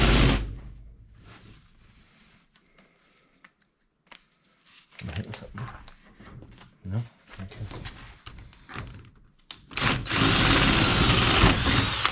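Power drill boring holes for rear door panel trim on a 1969 Dodge Charger restoration, heard as several short bursts of whirring separated by pauses, with a louder sustained run near the end; no talk over it.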